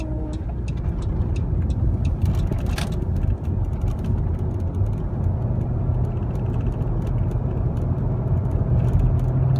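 A car cruises on a freeway in traffic, a steady close low road and engine rumble with faint clicks and a brief rattle, no talk over it.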